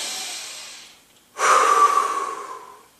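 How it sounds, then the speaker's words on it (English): A person pauses briefly, then takes one deep, forceful breath in through the nose, heard close and alone as a strong rushing sniff that tapers off. "breathe in through your nose"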